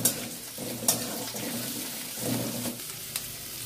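Chopped garlic, ginger and onion sautéing in a little oil and water in a home kitchen pan, a steady soft sizzle with a few stirring scrapes and light clinks, close and alone.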